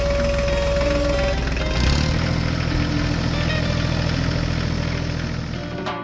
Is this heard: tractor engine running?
yes